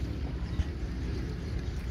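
A small boat moving along a river gives off a steady low rumble and water wash, with wind buffeting the microphone throughout and no clear talk.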